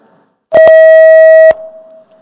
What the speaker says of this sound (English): it is important that we hear the sound of the buzzers coming from each school